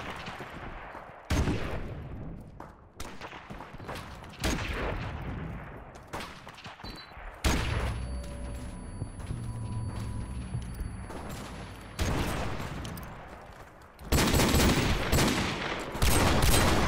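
Bursts of gunfire from Call of Duty 4 Remastered, loud and repeated, with rapid volleys and sharp single shots alongside game effects and a brief tonal hum, no talking.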